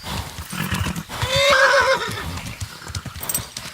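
A horse in the video game Kingdom Come: Deliverance gives a loud, close whinny in the middle, with rhythmic hoof clip-clops on a path before and after it as the horse is ridden.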